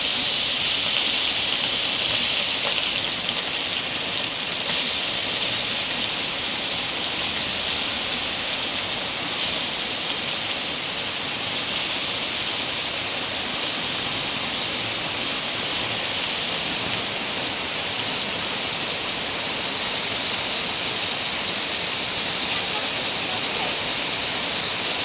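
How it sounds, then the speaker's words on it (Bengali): Fish, identified as vola fish, fries in hot oil, giving a continuous loud hiss and sizzle that fills the whole stretch with no voices. "মাছটা ভেজে নিচ্ছি"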